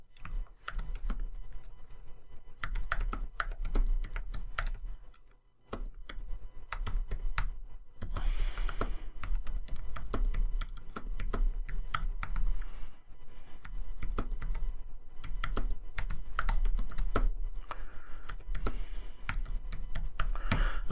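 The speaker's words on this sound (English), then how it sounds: "So I'm actually going to type something else" Steady typing on a computer keyboard, with rapid close clicks running almost continuously for twenty seconds and only brief pauses near five and thirteen seconds.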